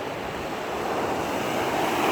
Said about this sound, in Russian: Вот сегодня такое море бушующее.